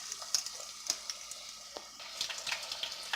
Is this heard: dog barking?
no